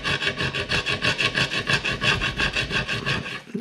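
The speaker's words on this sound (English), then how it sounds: "A piece of wood is good because it sort of just puts a very gentle rubbing." A piece of wood rubs steadily against the glass of a Lewmar portlight on a Hallberg Rassy 34, making a dry, rasping scrape that repeats in even strokes at close range, with no talking.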